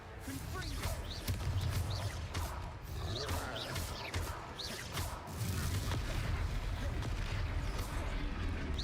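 A Confringo fire spell exploding during a Hogwarts Legacy battle, layered booms and whooshing blasts over a dense game soundscape, with a few character voice fragments mixed in.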